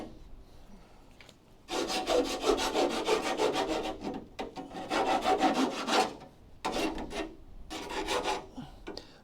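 Burrs are filed off a thinned, worn car frame rail on a crew cab Charger restoration, with close, loud rasping strokes in several long bursts separated by brief pauses.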